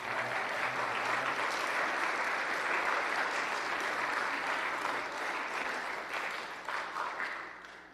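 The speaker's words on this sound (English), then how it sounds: "I would like to celebrate you right now with a round of applause." Sustained applause from an audience at a 2022 school awards ceremony, loud and steady throughout with dense clapping, tapering slightly toward the end.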